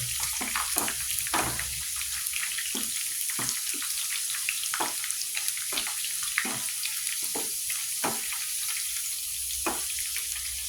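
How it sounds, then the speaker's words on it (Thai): Sun-dried pork frying in hot oil, a steady loud sizzle with irregular sharp pops and crackles throughout, close by and with no talking. "ทอดกำลังดีกลางๆค่ะทอดกรอบมากก็ไม่อร่อย"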